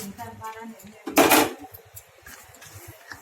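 Fried almonds and cashews are stirred into chhana payesh in a pot, giving one short, loud burst of clattering and scraping midway, with softer clinks around it and a person talking.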